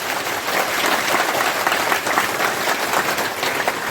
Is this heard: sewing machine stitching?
no